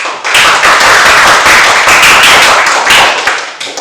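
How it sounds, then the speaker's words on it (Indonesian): Close, loud clapping from a classroom of students in a Balinese language lesson, a dense burst starting abruptly and lasting several seconds before stopping, with no talk over it. "tepuk tangan"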